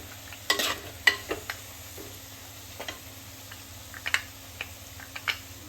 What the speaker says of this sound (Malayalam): മഞ്ഞൾപ്പൊടി ഇട്ടിട്ട് ഒന്ന് ഇളക്കാം.